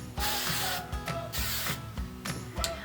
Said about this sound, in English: now taking my hairspray, I'm just gonna spray it all over